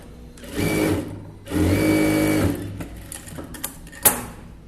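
A sewing machine stitches the side seam of a 36-inch blouse in two close, steady bursts of rapid mechanical whirring separated by a short pause, followed by a few light clicks and a sharp tap.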